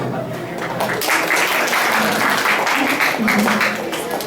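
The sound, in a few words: lively applause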